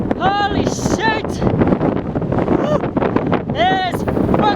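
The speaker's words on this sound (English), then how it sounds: "It's fucking windy!" Strong mountain wind buffets the microphone with a loud, gusting roar in Central Asia between Naryn and Osh, while a voice calls out over it.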